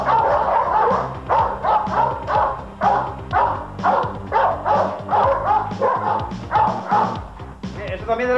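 A Perro de Presa Canario barks repeatedly in a steady rhythm, about a dozen loud, close barks, with a voice talking underneath.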